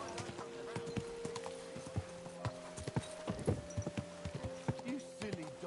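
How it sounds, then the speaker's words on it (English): Horse hooves clip-clop in an uneven rhythm over a low steady hum in the video game Kingdom Come: Deliverance II, with a brief whinny among the steps. "Easy, good horse."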